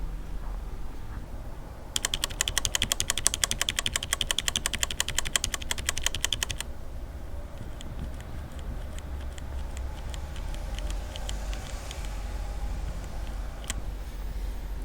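Rapid typing on a Corsair Strafe keyboard with Cherry MX Red switches fitted with O-rings but not lubed, a dense burst of quick soft clicks for several seconds, then sparser, fainter keystrokes over a steady background hum.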